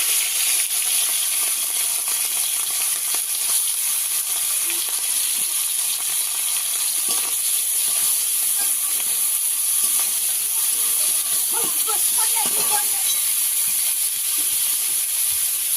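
Prawns fry in a pan over rural home cooking, giving a loud, unbroken sizzling hiss that runs the whole time. A few soft clicks and stirring sounds appear partway through.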